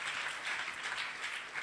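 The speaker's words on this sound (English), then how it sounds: "Clap for them." Audience applause in a church gathering for a pastor couple, a steady wash of many hands clapping at moderate distance throughout, with no voices standing out.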